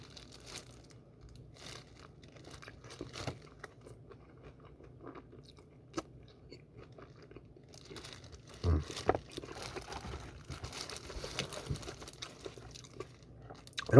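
Someone chewing crunchy Bburinkle fried chicken with sauce on it, eating meat off the bone, making faint, close crunches and bites scattered at an irregular pace against quiet background.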